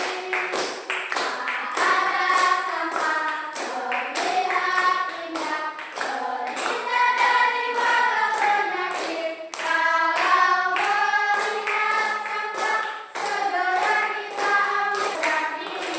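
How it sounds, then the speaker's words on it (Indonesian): Children in a Catholic religion class clap their hands in rhythm while singing a song together, sharp regular claps running under the steady sung melody throughout. "tepuk tangan"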